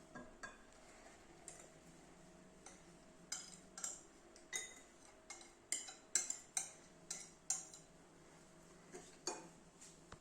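A spoon scrapes and clinks against a bowl as a risen dough starter is stirred, giving repeated sharp taps in an uneven rhythm, close and fairly quiet with no talk.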